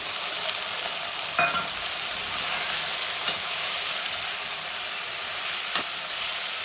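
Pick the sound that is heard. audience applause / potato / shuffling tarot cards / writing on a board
potato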